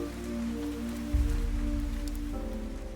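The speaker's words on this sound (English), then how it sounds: "But even the rain soon began to weaken." Rain falls steadily in the video game Fantasian Neo Dimension, a soft continuous patter with a low droning layer that swells partway through, no voices.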